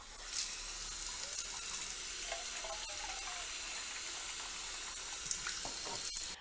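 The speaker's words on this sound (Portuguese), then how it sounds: "A água para proteína de soja já está fervendo." Water boils in a cooking pot on the stove for soy protein, giving a steady close bubbling and hissing with faint pops and no voices.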